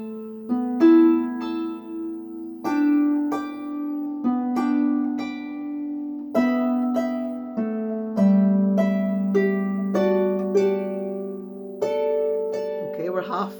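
Harp tune from bar 65 in a tuition workshop, plucked melody notes over ringing bass chords at a steady, unhurried pace, close and clear with no talking.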